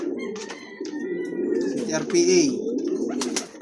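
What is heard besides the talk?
Taiwan imported pigeons cooing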